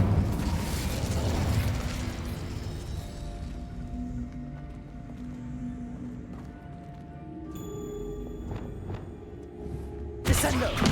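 The Incendio fire spell in Hogwarts Legacy bursts with a loud whooshing blast of flame that decays into a rumbling roar, followed by lighter magical clinks and another sharp burst at the end.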